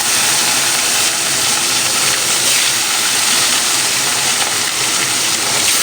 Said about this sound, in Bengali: এখানে আমি মাছগুলো দিয়ে ভেজে নেব